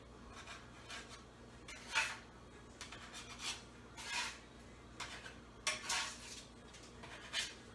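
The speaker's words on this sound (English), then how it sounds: "I'll just take them off of the tray now and just put them onto the cutting board" Molasses cookies lifted off a metal baking tray with a spatula and set onto a cutting board, a series of faint scraping and clinking strokes at an irregular rhythm, close by and quiet.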